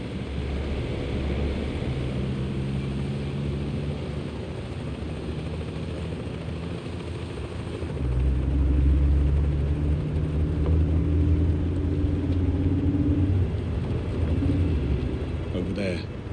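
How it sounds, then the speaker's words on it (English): A helicopter in the video game 007 First Light approaches with a steady rotor and engine drone that grows louder and heavier partway through, then holds as it nears. "Bavma's heli is inbound"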